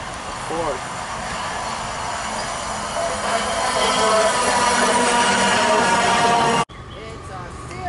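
A CSX freight train passing in Lorton, Virginia, a loud sustained rumble with squealing wheels close by; a voice speaks over the start.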